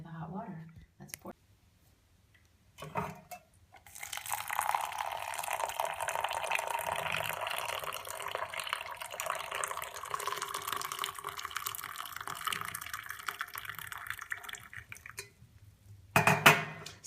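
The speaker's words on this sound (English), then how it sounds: "I have my powders in there waiting for the hot water. Let's pour." Hot water is poured from a kettle over drink powders in a cup, giving a steady splashing trickle that lasts about twelve seconds. Faint knocks and clicks come before the pour, and a short clatter follows it.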